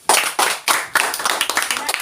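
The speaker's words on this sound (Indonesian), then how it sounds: "Ya, tepuk tangan." A classroom group claps hands together, with several loud, evenly spaced claps followed by quicker, scattered clapping, all close and sharp.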